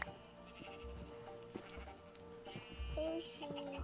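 Sheep bleating in a Nintendo Switch 2 video game, several quiet bleats from grown and baby sheep over soft background game music, with no talk.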